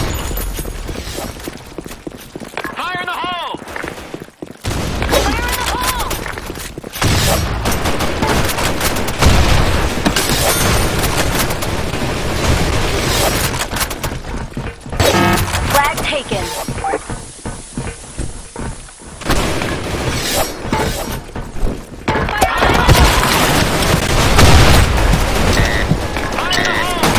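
Grenade blasts and bursts of gunfire in a capture-the-flag video game, loud and nearly continuous, with heavy booms and rapid automatic fire layered together; game voice callouts are heard among the battle sounds.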